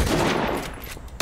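Gunfire in the video game S.T.A.L.K.E.R. 2, a dense, continuous burst of shots lasting about a second, loud and close, ending in one sharp final crack.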